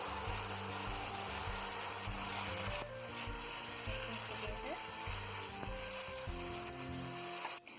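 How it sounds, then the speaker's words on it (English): Soft continuous sizzling of gravy frying in a pan over a low flame, with occasional scraping clicks and low hum-like tones underneath. "I am frying this gravy around 3 minutes with low flame."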